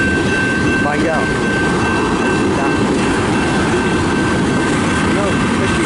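A long-haul CN manifest freight train heads westbound past the camera with a dense, continuous rumble and clatter of wheels, loud and close throughout, with a faint horn-like tone above it.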